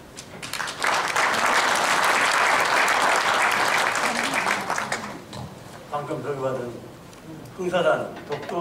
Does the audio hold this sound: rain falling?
no